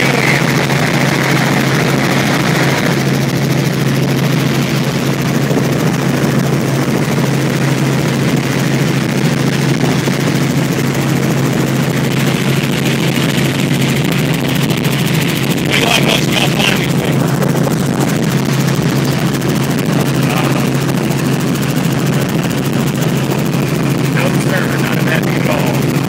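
A helicopter in flight, heard from inside during a passenger ride at a Warriors Weekend event, gives off a loud, steady rotor and engine drone with a low throbbing hum that continues throughout.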